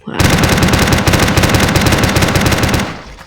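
Sustained rapid automatic fire from a PM3-style minigun in a Minecraft gun addon, a loud dense stream of shots lasting about three seconds and then cutting off.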